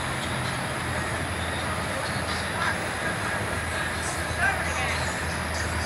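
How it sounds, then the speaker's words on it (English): Norfolk Southern mixed freight train led by locomotive NS #8084 rolls past heading west, a steady rumbling roar of wheels and cars with occasional brighter squeals. "Here comes the train, you guys."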